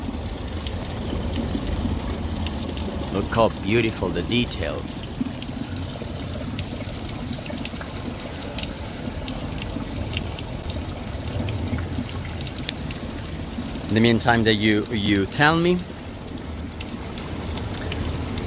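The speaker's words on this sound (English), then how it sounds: "We're finishing with a working fountain." Water pours steadily from the Turtles Fountain in Rome at night, a continuous splashing rush. Someone talks over it in two short bursts.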